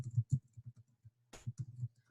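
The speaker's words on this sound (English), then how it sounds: "So I'm going to start typing that in." Quiet, close keystrokes clatter on a computer keyboard in an uneven rhythm, with one brief louder burst partway through.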